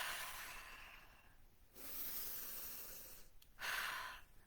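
Deep, slow breaths drawn in and let out in long airy hisses, close and quiet with pauses between, used to calm down, with no talking.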